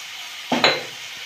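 Tomatoes frying in a little oil get stirred in a pan: one short scrape and clatter of a utensil against the metal over a steady faint sizzle.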